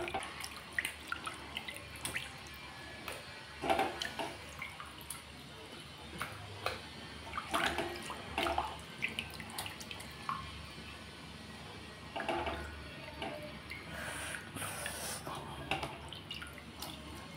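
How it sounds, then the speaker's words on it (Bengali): Small pabda fish are rinsed in hot water in a bowl, giving quiet irregular splashes, drips and handling sounds with pauses in between. "আমি যে কোনো মাছই গরম জলে ধুয়ে নিই"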